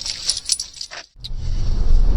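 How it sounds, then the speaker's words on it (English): Car keys jangle in a short, bright metallic cluster of clinks as they are handed back after a car's winter preparation, loud and close, followed by a low rumble. "She's getting the keys back."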